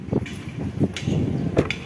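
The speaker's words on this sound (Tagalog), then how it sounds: "Malakas yung tunog niya sa loob pag pinipihit yung manibela." Clunking from the steering of a Mitsubishi Xpander as the wheel is slowly turned, a rough grinding knock: several dull low thumps spread over two seconds over steady background noise, close by.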